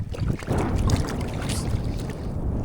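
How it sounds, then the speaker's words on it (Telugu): Strong wind buffets a fishing raft out on the Paleru reservoir, a brief, loud, continuous rushing roar of gusts blowing across the microphone, with no one talking. "గాలి తోలుతుంది."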